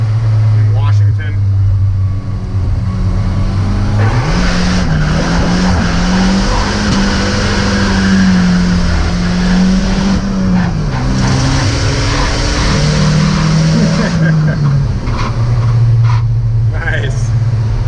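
A Volvo 740 turbo drift car is driven hard and run through the gears, its loud engine rising and dropping in pitch with each shift, with tire noise throughout and voices talking over it inside the car.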